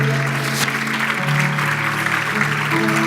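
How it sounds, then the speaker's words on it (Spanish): Loud applause from a church congregation, a brief burst of dense clapping over sustained musical tones. "Denles un aplauso fuerte"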